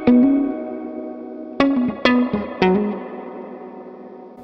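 Guitar chords played through a Universal Audio UAfx reverb pedal on its tank C long dark setting: a few strummed hits that ring out into a long, dark, smooth reverb tail.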